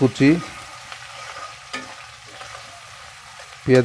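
Chopped onion fries in soybean oil with whole cardamom and cinnamon, giving a low, steady sizzle broken by a few sharp scrapes of a spoon against the pan at the start and end.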